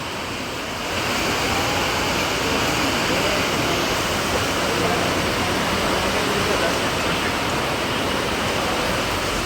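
Heavy rain pours steadily outside a bike showroom, a loud, dense hiss that swells up after the first second and stays constant.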